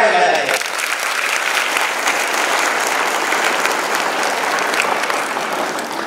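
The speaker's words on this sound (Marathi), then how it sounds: "एकदा तुमच्या स्वतःसाठी जोरात टाळ्या वाजवा" A large gathering of students at a Guru Purnima event bursts into loud, sustained clapping that fills the room evenly for several seconds.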